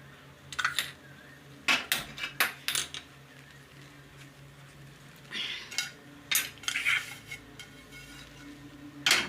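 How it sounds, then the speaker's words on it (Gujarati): A heavy iron griddle (lodhi) is set onto a gas stove in a home kitchen while making methi bhakhari, giving scattered metallic clanks and scrapes in short bursts against a quiet room. "આપણે આ લોઢી રાખશું"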